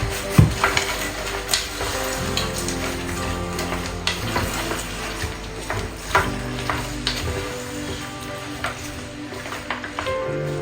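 Pork and vegetables simmer and sizzle in a pot, a steady close crackle with occasional stirring scrapes and clinks, and no one talking.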